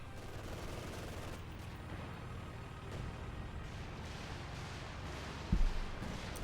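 Bursts of MG42 machine-gun fire from a Company of Heroes 2 battle, faint and distant within a constant rumbling war-game soundscape, with a brief heavier thump near the end.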